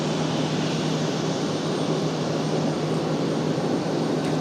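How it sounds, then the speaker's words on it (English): Rolls-Royce Trent jet engines spool up on a Boeing 777, a steady, continuous roar with a low hum running underneath at even loudness throughout, with no voices. "Always love hearing the Trents start up"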